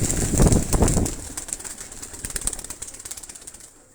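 Migratory pigeons flap their wings in a burst close by, followed by a steady mix of fluttering and soft calls against a bright, hissy outdoor background.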